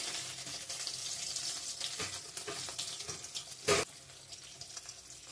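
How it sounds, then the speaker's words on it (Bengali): Pieces of rohu fish fry in a pan in a home kitchen, giving a steady close hiss and crackle of sizzling oil with a brief louder burst near the end. "মাছগুলো ভেজে নিচ্ছি এখন।"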